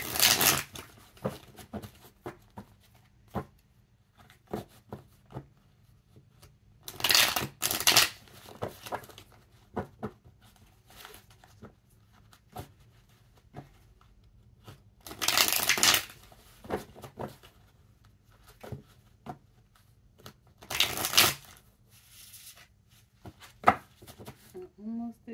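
A deck of tarot cards is cut and shuffled by hand, with bursts of riffling and soft slaps between quiet pauses and occasional light handling clicks.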